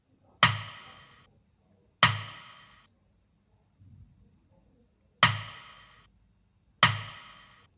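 Four sharp, bright rim percussion sample hits in a hip-hop beat, spaced apart with short decaying tails, plus one faint softer tap in between, in an otherwise quiet background.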